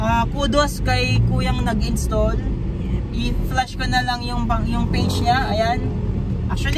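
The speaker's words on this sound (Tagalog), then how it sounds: "maririnig nyo na nabawasan yung ingay ng sasakyan." Steady low road rumble inside a moving Suzuki S-Presso fitted with a roof insulator, with a person talking continuously over the engine and tire noise.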